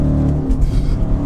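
Stock, untuned Audi RS4 with just over 420 horsepower, its engine giving a loud, deep rumbling drone up close, with a rich low growl and no talk over it.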